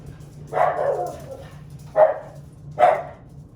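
A dog barks three times, one drawn-out bark then two short sharp ones, fairly close against a low steady hum.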